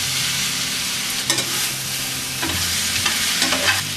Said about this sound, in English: We will saute for 3 minutes.